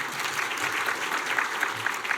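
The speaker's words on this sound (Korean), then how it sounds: "박수 한번 쳐드리시고." An audience at a gospel meeting in a Seoul church breaks into a brief burst of dense, steady clapping at moderate volume.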